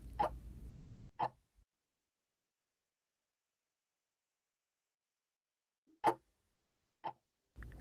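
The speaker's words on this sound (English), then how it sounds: "Maybe the ticking of a clock" Sparse clock ticks, a few isolated clicks separated by long stretches of silence, clear and fairly close.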